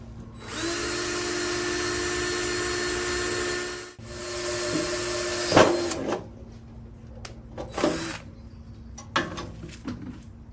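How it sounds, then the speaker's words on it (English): A power drill whines steadily for about four seconds, then grinds in shorter bursts with pauses, close by, as a slightly rusty bit cuts into a glass container. "when I am drilling glass containers"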